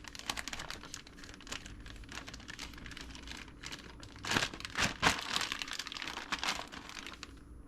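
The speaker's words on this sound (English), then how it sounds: "Let me just zip that real quick." A plastic zip-top bag holding raw pork crinkles and rustles as it is sealed and squished by hand, a soft, close crackling with a few louder crumples near the end.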